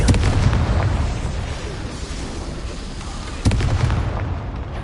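A Confringo fire spell bursting in Hogwarts Legacy, heard as a dense rumbling blast that trails off, then a second sharp impact near the end, loud and close with no talking.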